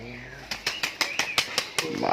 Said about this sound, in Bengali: ডানা পিটাই টাস টাস করে।